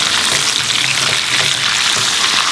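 Steak frying in hot oil with butter in a pan, a loud, steady close-up sizzle with crackling spatter running throughout.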